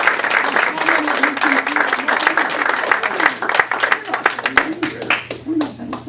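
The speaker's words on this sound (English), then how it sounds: "Give her a big round of applause." An audience at a mentalism competition act claps for a spectator volunteer, a lively burst of close, crisp hand claps over a few seconds, with voices talking underneath.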